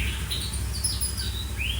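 A white-rumped shama sings in short, separate whistled phrases and rising chirps over a steady low hum and background noise.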